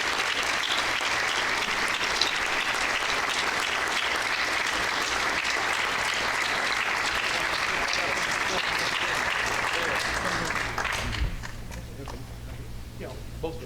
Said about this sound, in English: Will you join me in a round of applause for Miss Vivian Shields?